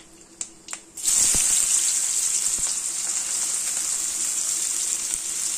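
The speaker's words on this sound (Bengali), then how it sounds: "পেঁয়াজ কুচিগুলো দিয়ে একটু ভাজা ভাজা করবো" Chopped onions drop into hot oil already tempered with a dried red chilli and nigella seeds. After a few light clicks, a loud, sustained sizzle begins and keeps crackling steadily.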